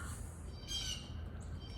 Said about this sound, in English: That's a blue jay.